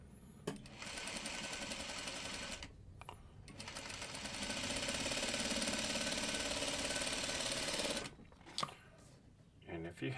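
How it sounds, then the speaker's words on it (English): A sewing machine stitches two quilt fabric pieces joined right sides together along one edge, a steady mid-loud motor whir running continuously for several seconds with short pauses, a person talking briefly nearby. "Okay, so right sides together. And we're just going to sew it on that edge there."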